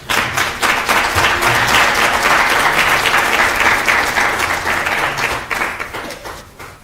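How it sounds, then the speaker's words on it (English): Applause at a university language policy launch, loud and dense clapping from a large audience, sustained evenly before tapering off at the end. "A big round of applause to Professor Ajay."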